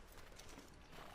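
Horse hooves clip-clop in the video game Red Dead Redemption 2, a quick, faint rhythmic patter of several hoofbeats with a possible whinny and no voices.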